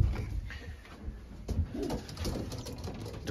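Racing pigeons in a loft coo softly and repeatedly at close range, low throaty calls overlapping with rustling and faint background noise.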